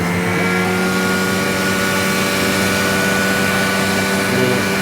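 A Panasonic 1000-watt juicer's motor runs at speed, a loud, steady, unbroken whine with a constant hum underneath and no voices.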